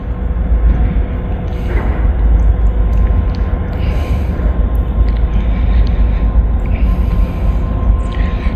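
A freight train rumbles past on the main line heading toward Vaughn, a loud, steady low roar of rolling cars and a droning engine, heard alone and close throughout.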